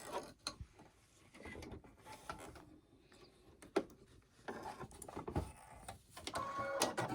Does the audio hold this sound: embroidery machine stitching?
yes